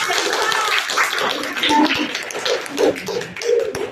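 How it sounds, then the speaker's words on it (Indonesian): A class of students claps for a classmate during a school lesson, a short burst of scattered, uneven hand claps with a few louder taps standing out over quiet room noise. "tepuk tangan buat temannya"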